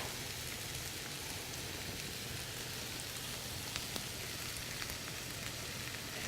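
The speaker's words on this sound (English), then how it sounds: "we'll just saute this until the onions and the peppers become tender" Onions and peppers sauteing in a pan with salt and cumin for huevos rancheros give a steady, even sizzle and hiss that runs unbroken throughout, fairly soft and without any talking.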